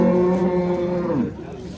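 A red-and-white cow at a livestock market lets out a long, low moo, a drawn-out harmonic call that holds steady and then bends upward near the end, fairly close.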